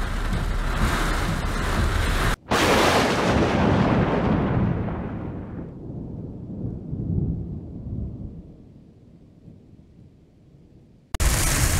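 A heavy thunderstorm during a derecho in Wisconsin: a loud, close roar of pouring rain and thunder that swells, then rumbles and fades away over several seconds before the downpour noise returns.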